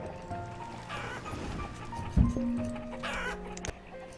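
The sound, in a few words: chickens clucking in the video game Banished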